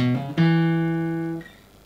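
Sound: fast guitar phrase from a solo

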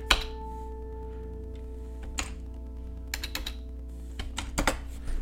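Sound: typing code on a computer keyboard

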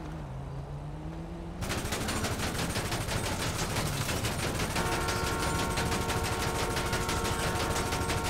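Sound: gunshots in the video game GTA 5

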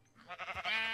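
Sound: sheep bleating in Minecraft video game

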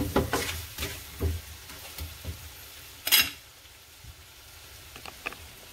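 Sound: mussel tinola soup simmering

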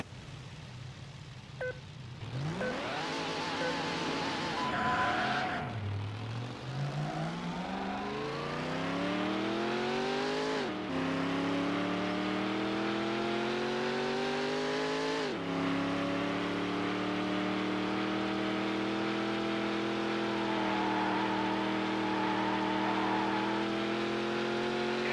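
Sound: racing cars in Need for Speed: Hot Pursuit 2 video game

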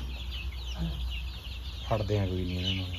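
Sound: chicks and chickens clucking at a farm

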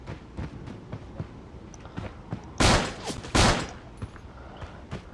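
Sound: gunfire from the video game Creative Destruction

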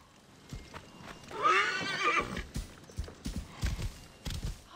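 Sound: horse neighing and galloping in video game Assassin's Creed Origins

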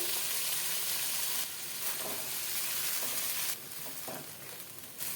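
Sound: boiled chickpeas and ground cashew-poppy paste added to frying spice masala

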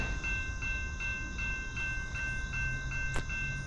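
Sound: CSX or NS freight train passing

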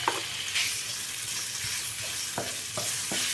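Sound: pork pieces added to a frying pan, sizzling

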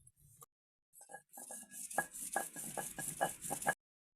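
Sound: grinding raw ginger, coconut and garlic masala on grinding stone

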